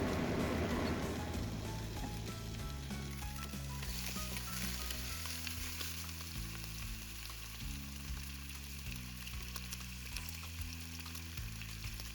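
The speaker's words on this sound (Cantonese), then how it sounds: "先落少少油煎一煎五花腩嘅四邊啦，等佢有少少焦香。" Pork belly sizzles in a little oil in a hot pan, a steady dense frying crackle lasting throughout, loud and close, with music playing underneath and no talking.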